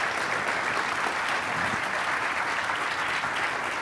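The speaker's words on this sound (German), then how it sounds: "jetzt noch mal ein bisschen Applaus" Steady, dense applause from an audience at a German science award ceremony for a logistics prize, a continuous wash of many hands clapping that holds even and loud throughout.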